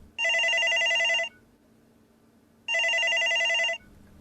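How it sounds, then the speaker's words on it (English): A telephone bell rings in two bright, steady bursts about a second long, separated by a quiet gap, sounding close and clear with no voices. "Rav was interrupted when the phone rang."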